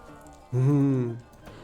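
One drawn-out, low, tonal moo from a cow in a village-defence video game, lasting under a second, clear and fairly loud against quiet game background.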